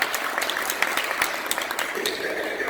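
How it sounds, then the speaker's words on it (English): A room of people at a forum on promoting adoption of minority children breaks into steady applause, many hands clapping at moderate loudness with a few sharper individual claps standing out. "If you agree with me, give me a round of applause."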